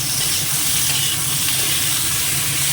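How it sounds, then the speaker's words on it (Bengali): Potatoes with green chillies frying in a pan, giving a steady, loud, continuous hiss and sizzle with no breaks, close by and without talk. "আলুটা ভেজে নিচ্ছি আমাদের সুন্দর আর কাঁচা লঙ্কাটা দিয়ে দিলাম"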